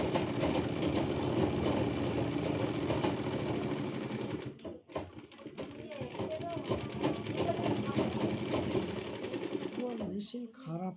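A sewing machine hums steadily with its freshly repaired motor, a dense continuous whir that briefly cuts out and then resumes, while people talk over it close by.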